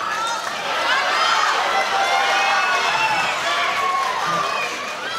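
A crowd cheers for a hometown fighter at a SALT fight boxing event, a sustained roar of shouts and whoops that swells and stays loud, with voices mixed through it.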